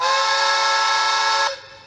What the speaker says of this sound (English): 2 is a long whistle.